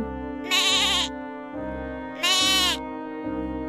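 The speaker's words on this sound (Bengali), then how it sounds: "আমি ছাগলের বাচ্চার আওয়াজ শুনতে পেলাম।" Two loud, quavering bleats from a cartoon baby goat ring out about two seconds apart over a low, steady background hum, each cry lasting roughly half a second.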